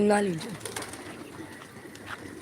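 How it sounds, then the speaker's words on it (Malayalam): A single low pigeon coo from a tiled roof at the very start, then faint ambient noise for the rest of the moment. "പ്രാവ് ഓട്ടിന്റെ മുകളിൽ നിന്ന് മൂന്നെണ്ണം ഉണ്ട്"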